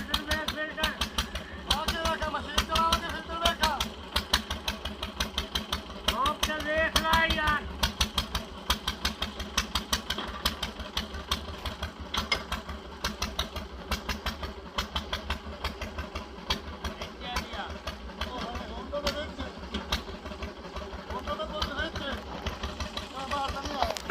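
A diesel engine powers a water boring machine drilling a tube well, running steadily and fairly loud with a continuous throbbing drone that is close by and lasts throughout, while people talk over it.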